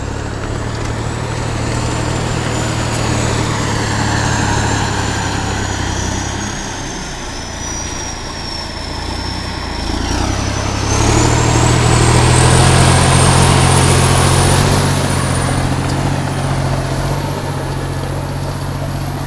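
A loud heavy T-150 crawler tractor engine drones close by while ploughing, its pitch dipping and then climbing as it works harder, with a high whine sliding along above it.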